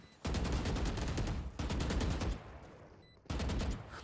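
Gunfire in the game Valorant: three bursts of rapid automatic fire, each a fast rattle of close, loud shots lasting about a second, separated by short quiet gaps.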